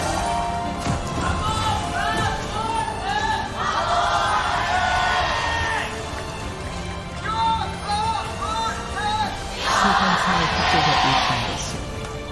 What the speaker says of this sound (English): T1 fans extraordinarily loud, but we got a good cheer on the KWANGDONG side of LoL Park